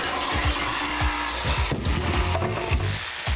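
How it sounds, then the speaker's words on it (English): A jigsaw cuts a hole through wood, a continuous buzzing, reciprocating rasp with rhythmic strokes, close and steady throughout with no talking. "I drilled a starter hole for the jigsaw blade and then cut the hole with my jigsaw"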